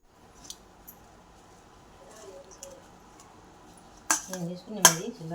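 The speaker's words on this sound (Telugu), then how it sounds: "అన్నంలో అయితే కలుపుతున్నాను" Lemon rice mixture gets stirred into cooked rice, soft squishing and a few utensil clinks, louder scrapes near the end against a quiet background.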